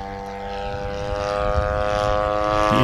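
Petrol engine of a large 103-inch Seagull Models Morane Saulnier AI radio-controlled scale plane in flight, a loud steady droning buzz that slowly swells as the plane draws nearer, heard alone.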